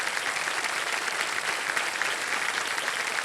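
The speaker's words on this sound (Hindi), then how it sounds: "और आप सब लोग ताली बजा दीजिए स्नेहा जी के लिए।" A studio audience on the KBC quiz show applauds for a contestant, a steady, dense wash of clapping from many hands that holds at an even level with no pauses.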